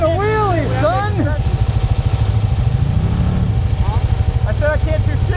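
A two-stroke enduro motorcycle engine buzzes and revs steadily close by while riding a wheelie, under loud excited talk and shouting from the riders.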